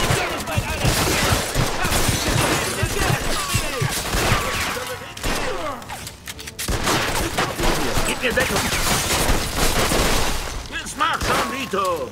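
Sustained gunfire in Mafia II, a dense continuous barrage of rapid shots and bursts filling the whole stretch at close range, with brief lulls midway, while voices speak over it.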